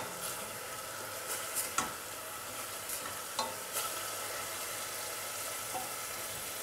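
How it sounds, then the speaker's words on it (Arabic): Chopped onions frying in a pan for a dandashi dish with chard, a steady broadband sizzle throughout with a few soft clicks of a utensil against the pan; no voices. "هنا بعد ما البصل تاعي راهو يتقلى"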